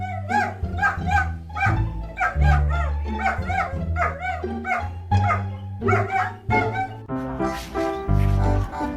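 At a vet nail trim, a dog yips, barks and whimpers in repeated close, loud bursts throughout, with a few voices heard between the cries.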